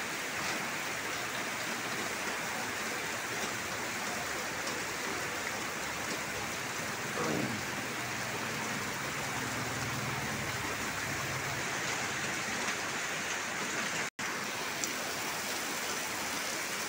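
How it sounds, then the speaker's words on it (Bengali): Rain falling steadily in the Maldives, a soft even hiss of drops continuing throughout at moderate distance, with one sharp click partway through. "বৃষ্টি আরম্ভ হয়ে গেছে।"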